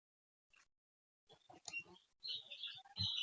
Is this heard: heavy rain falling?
no